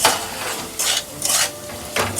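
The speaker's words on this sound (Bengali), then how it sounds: "নাড়তে হবে" Spoon scraping through fried potatoes and boiled tomatoes in a pan while making chilli fish, three or four distinct stirring strokes over a low sizzle, close and fairly loud.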